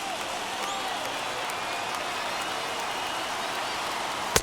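A baseball crowd of about 35,000 on its feet in MLB The Show 21, a dense continuous wash of cheering and clapping at steady level, ending in a sharp loud crack.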